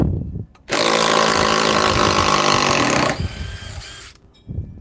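A compact impact wrench, once top of its class, runs in one loud, continuous burst of about two and a half seconds of whirring, hammering noise, then winds down through a softer tail.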